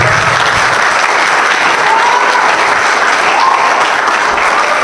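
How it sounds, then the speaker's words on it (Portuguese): Steady applause from a large crowd at a church conference fills the whole stretch, dense and continuous clapping with a faint murmur of voices underneath. "Um aplauso para Deus."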